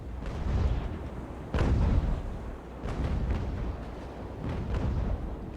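Ship cannons firing at long range in the naval battle game Ultimate Admiral Age of Sail, several heavy booming shots with one stronger blast near the middle, over a steady rumbling battle backdrop.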